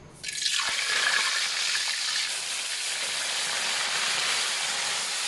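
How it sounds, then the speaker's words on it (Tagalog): Fish frying in a pan, starting with a sudden burst of sizzle that settles into a steady, loud hissing crackle with no talking. "Umpisa na ako mag-prito."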